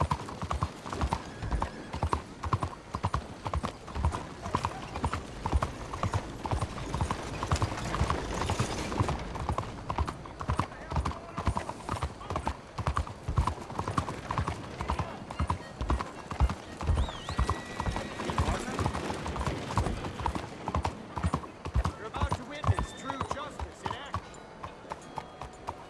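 A horse's hooves clip-clop steadily across a road in the video game Red Dead Redemption 2, a continuous rhythmic trot with a soft whinny and game ambience under a voice.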